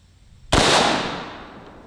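A single loud crack from an AR rifle with a 16-inch barrel firing Black Hills 77 grain 5.56 ammunition, close up, with a long fading echo trailing after the shot.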